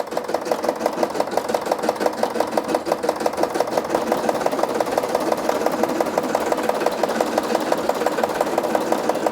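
A Brother SE 625 embroidery machine stitches a patch, giving a steady, fast mechanical whir with an even rhythmic ticking of the needle that continues without a break throughout.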